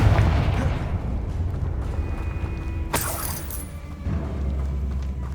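Confringo blasting spell from Hogwarts Legacy, a rumbling explosive blast with a sharp crackling shatter near the middle, then a deep low boom trailing off, loud and close.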